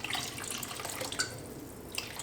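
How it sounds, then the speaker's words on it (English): Water running from a tap into a glass jar, to be added to a beef lasagne tomato sauce in a home kitchen. It is a steady, close hiss with a few faint drips and splashes, heard on its own. "I'll just start with half of this jar here of more water to add to it."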